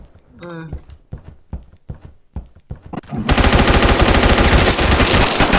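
Several sharp, separate shots ring out in the game Phantom Forces, followed by a sudden continuous burst of rapid automatic gunfire that drowns out everything else.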